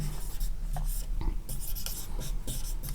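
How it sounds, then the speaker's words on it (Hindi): Chalk or marker scratches across a board as a teacher writes during a trigonometry lesson, with steady close strokes and short taps and no voices. "तो चलिए यहाँ पर लिखते हैं"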